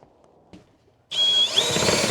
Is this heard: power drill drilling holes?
yes